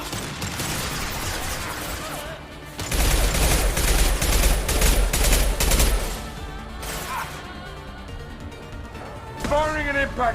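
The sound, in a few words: gunfire in Mass Effect video game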